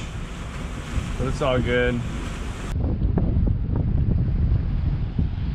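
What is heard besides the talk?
strong 20-knot wind while sailing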